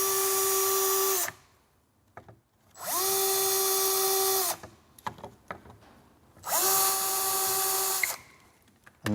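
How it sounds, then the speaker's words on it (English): A power drill bores holes into a kitchen base cabinet for the runner of a soft-close pull-out, three loud, close whining bursts of about a second and a half each, with quiet handling clatter in the pauses. "you need to drill in 3 positions along for the bottom runner"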